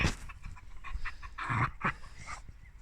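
A dog pants in quick, uneven breaths with a few soft whimpers mixed in, close and fairly quiet, with no talking.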